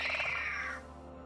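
A cat in Dragon Age: The Veilguard gives a single short meow that fades quickly over a low steady game background hum.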